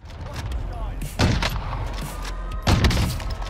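Two loud Swiss K31 sniper rifle shots ring out in the video game Warzone, each a sharp booming crack with a trailing echo, spaced about a second and a half apart over a steady game background.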